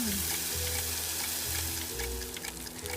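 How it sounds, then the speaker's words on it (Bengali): French fries frying in a cooking video game, a steady, bright sizzle of hot oil with a low looping tone beneath, continuous and fairly close, with no voices. "ও আচ্ছা, এবার ভাজতে হবে।"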